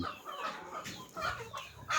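Chickens clucking on a Thai farm raising around sixty to seventy birds, several hens making close, overlapping clucks and short calls in an irregular chatter, fairly loud and unaccompanied by talk.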